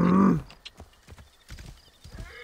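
Horse hooves clip-clop at a gallop in a video game set around hunting the Daggers of Tut, after a loud burst at the start, rhythmic and mid-distance, with faint background sound and no talking.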